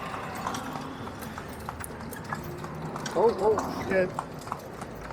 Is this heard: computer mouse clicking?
no